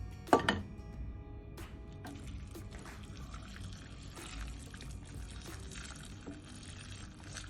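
A short clatter, then pre-boiled water pours steadily into a pot of beef for Lebanese pea stew with a soft continuous splash that trails off into quieter sloshing.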